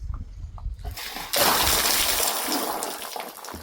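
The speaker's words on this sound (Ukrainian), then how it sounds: "фінішуємо це все тазиком води приблизно 5-6 літрів" A basin of roughly five to six litres of cold water, no warmer than 20 °C, is poured over a person for a morning dousing: a sudden loud splash and gush, then trailing splatter and dripping.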